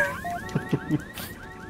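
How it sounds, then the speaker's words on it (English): A car alarm goes off in a video game, with a rapid repeating rising electronic whoop over a few dull thuds, fairly close and alone. "The car alarm went off."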